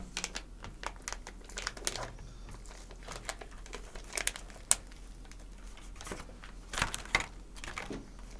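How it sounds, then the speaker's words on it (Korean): Plastic film is peeled back from a convenience-store lunchbox container, giving close, busy crinkling and crackling in quick irregular bursts that continue throughout with no talking. "용기 윗부분에 비닐을 반만 개봉해 줍니다."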